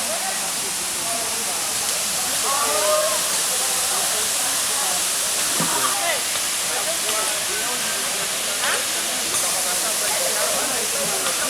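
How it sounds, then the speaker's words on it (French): A waterfall at the agricultural high school of Coconi pours in a steady, broad rushing hiss that fills the whole stretch, with faint voices and birdlike chirps mixed in beneath the constant roar. "Derrière moi, il y a la cascade."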